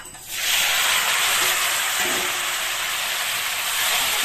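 Cauliflower frying in hot oil gives a loud, steady sizzle and hiss that swells in within the first half second and holds close and continuous, with no talk.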